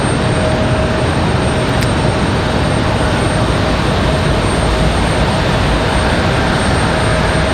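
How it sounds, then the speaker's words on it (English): Delta Airlines Boeing 737-900 jet moving at Raleigh-Durham airport, a loud, steady broadband engine roar holding without letup, with a faint thin tone running through it. "We've got another 737-900 for Delta Airlines on the move"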